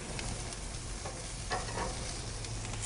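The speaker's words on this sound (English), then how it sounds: "we've seared the one side of the porterhouse for approximately 6 minutes" A porterhouse steak sears over high heat on a natural gas grill with a constant, dense sizzle. A few faint scraping stirs rise out of it, and there is no talk.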